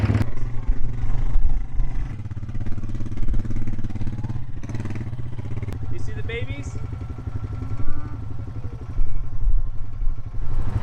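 A tractor engine runs steadily on a ranch, a continuous low rumble with some clatter throughout, while people talk over it.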